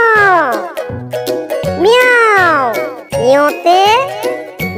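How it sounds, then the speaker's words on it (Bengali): A cat meows loudly several times in a row with long, drawn-out rising and falling calls, mixed with light jingling chimes. "মেউ শব্দে বিড়াল ডাকে"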